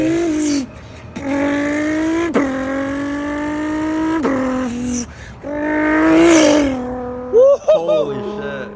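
Nissan GT-R and Lexus LFA engines revving hard, with rising and falling harmonic wails over about eight seconds, a brief tire squeal, and close, loud bursts of acceleration.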